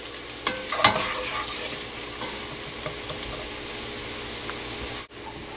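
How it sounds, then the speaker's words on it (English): Ginger and garlic sizzle steadily in hot oil in a pot for goat curry, a close, continuous frying hiss with a few scraping stirs near the start and no talk. "we're just waiting for the ginger garlic to get a little bit light brown"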